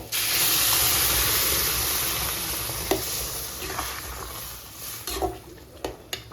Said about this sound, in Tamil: இப்போ வேக வச்சிருக்க பருப்பு தண்ணியை சேர்த்துக்கலாம்.